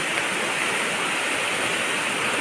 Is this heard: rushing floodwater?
yes